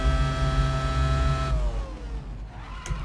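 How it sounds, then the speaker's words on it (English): A Ferrari F2002 Formula 1 car in the racing game Assetto Corsa screams at high revs, then drops in pitch as it lets off, before briefly picking up again. "You can hear that engine ripping."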